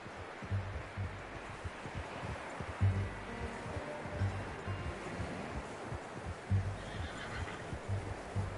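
Horse whinnies and neighs from Red Dead Redemption 2, set over a steady wind-like background with occasional low hoof thumps, the calls recurring a few times at moderate loudness.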